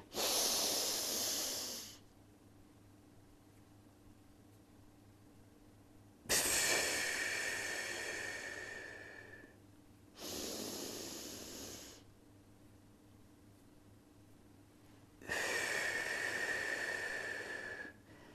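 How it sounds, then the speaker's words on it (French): Slow, deliberate breaths during a relaxation breathing exercise, heard close as four long airy inhales and exhales separated by quiet pauses. "Vous prenez le temps de euh, maintenir votre respiration 3 secondes. Et puis ensuite, vous expirez 3 secondes."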